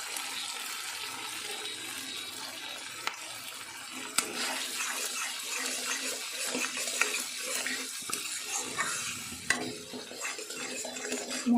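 Spices with salt and turmeric frying in a pan on low to medium heat for a vegetarian potato dum, a steady hiss and sizzle under repeated scraping of the stirring spoon, with small clicks throughout.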